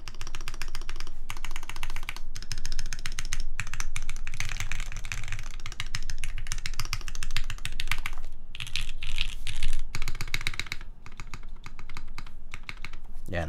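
Rapid, clacky typing on a mechanical keyboard, steady bursts of keystrokes close up, with brief pauses between runs.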